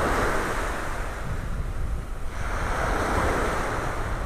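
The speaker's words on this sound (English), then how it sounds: "so the water is a bit churned up." Rough ocean surf at a beach in North Naples, Florida, churned-up waves rolling in as a continuous loud roar, mixed with wind buffeting the microphone throughout.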